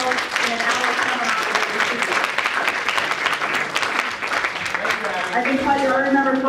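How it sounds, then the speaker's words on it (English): Audience applause at an immigration law seminar, a steady round of clapping from a room full of people that holds at a moderate level for several seconds, with no voices over it. "I think we should have a round of applause"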